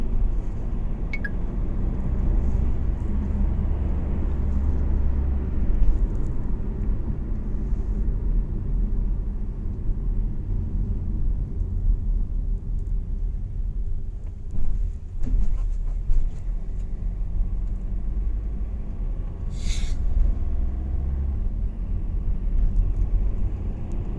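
A Volkswagen Caddy 2.0 automatic drives along a road, heard from inside as a steady low engine and road rumble with faint clicks and no talk over it.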